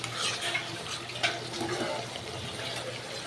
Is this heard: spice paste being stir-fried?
yes